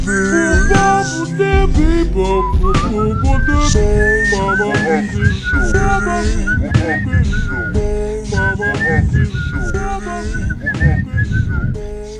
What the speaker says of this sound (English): Beautiful whistling, Rock.